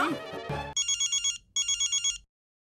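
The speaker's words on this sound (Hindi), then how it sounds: "लगता है जेठा भाई का फोन है।" An electronic ringtone from a telephone chimes in two bursts of rapid, repeating beeps, loud and close, with a short pause between them after a voice trails off at the start.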